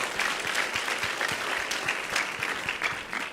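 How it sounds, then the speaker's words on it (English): Sustained audience applause at a youth cultural competition, steady dense clapping from a crowd filling the room for about three seconds, with no talking over it. "let's give them all one more round of applause"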